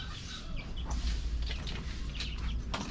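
Chickens in a mini-farm coop cluck and squawk in short, irregular bursts over steady low background noise, fairly close and continuous throughout.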